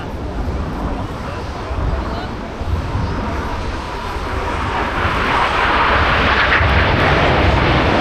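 A display jet aircraft pulling a manoeuvre at an airshow roars loudly and steadily, growing stronger toward the end, with crowd noise and wind buffeting beneath it.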